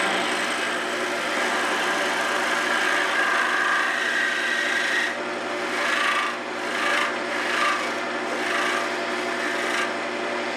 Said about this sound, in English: Just change it to a spindle gouge to get in there a little bit tighter.